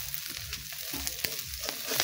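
Small puti fish frying in oil in a pan, a steady soft sizzle with scattered crackles and pops throughout, moderately close and with no talk.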